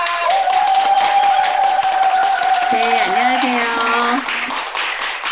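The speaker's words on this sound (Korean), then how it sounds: "뜨거운 박수로 우리 환영해 주시기 바랍니다" Warm applause welcoming a speaker at a Unicity business presentation, steady dense clapping filling the room under background music, with a woman greeting the audience near the end as the clapping thins.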